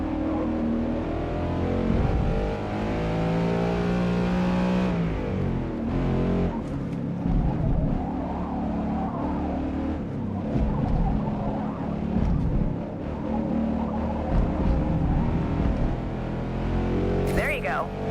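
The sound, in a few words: Ford Mustang engine and downshifts in video game Forza Motorsport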